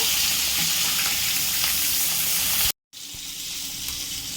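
Rohu fish pieces frying in hot oil in a pan, a steady, loud, close sizzle that cuts out briefly and then carries on.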